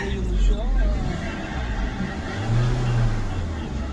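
A GDI car engine idles and rises in short one-second throttle bursts, a steady close mechanical rumble under a moderate level with slight swells.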